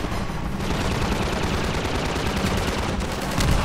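Rapid continuous gunfire from a combat gunship in the video game Half-Life 2 as it shoots down a rocket, a loud, dense rattling stream throughout with no talk.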